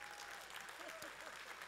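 Brief burst of a church congregation clapping, quiet and diffuse, with a voice partly heard over it.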